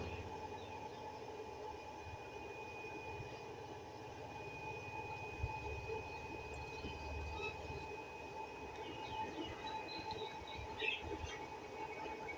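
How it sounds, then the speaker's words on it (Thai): Cooling fan of a 1000 VA Sunjonglic UPS, under repair for an error and a shorted MOSFET, whirs steadily with a constant hum and faint tone, running alone without talk. "พัดลมทำงานแล้ว รันแล้วนะครับ"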